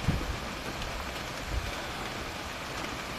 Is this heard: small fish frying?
no